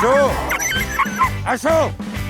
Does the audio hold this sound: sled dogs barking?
yes